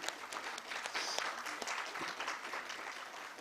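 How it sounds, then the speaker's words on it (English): A round of audience applause at the SAGE inauguration and international symposium, a faint, dense patter of many clapping hands with scattered louder claps, continuing steadily throughout. "So now I think we'll give a round of applause."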